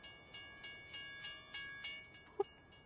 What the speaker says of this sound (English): Oh, here comes the train.